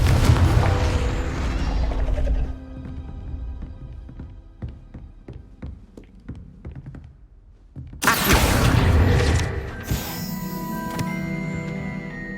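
Bombarda and Confringo spell blasts in Hogwarts Legacy: a loud boomy burst at the start, then a stretch of sharp clicking mechanical ticks, followed by another heavy rumbling explosion and a bright crackling tail.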